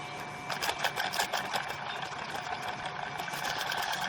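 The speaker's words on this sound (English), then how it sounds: "And then it spins up quite easily." Homemade three-phase magnetic motor, its rotor fitted with two magnets set as a bar across the middle, spinning up with a steady mechanical whir and light rhythmic rattling, close and fairly quiet.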